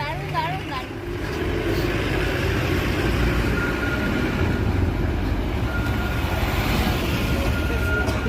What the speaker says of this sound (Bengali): কি সুন্দর গাড়ি যাচ্ছে, গাড়ির পাশ দিয়ে টয় ট্রেন